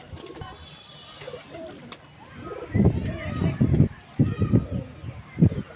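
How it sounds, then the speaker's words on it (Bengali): Giribaz pigeons coo in low, throaty bursts close by, several soft calls repeating in the second half, with a voice speaking faintly in the background. "এই যে পায়রাগুলো একটু কাছে থেকে দেখাচ্ছি"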